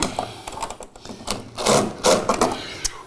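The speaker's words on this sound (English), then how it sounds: "take a couple flooring screws and screw that box right to the stud on the inside" A power drill drives flooring screws through an electrical box into a wooden stud during a church renovation, giving several short, close whirring bursts with brief pauses and some rubbing and scraping between them.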